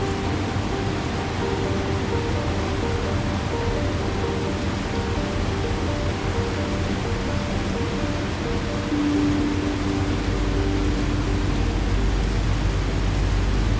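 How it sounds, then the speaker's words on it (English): Steady rain falls outside a steam train at night, a dense even hiss with a low rolling rumble of the train beneath, continuous and unbroken. "Safe inside, the rain falls, the wheels turn."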